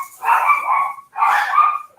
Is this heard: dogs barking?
yes